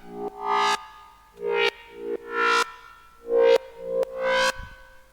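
A filtered acid synth line in an electronic track plays short rising notes, each sweeping brighter as the filter opens, repeating in a choppy rhythm with gaps between phrases.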